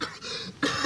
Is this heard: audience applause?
no